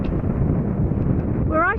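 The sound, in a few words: wind blowing at the top of the downland near Beachy Head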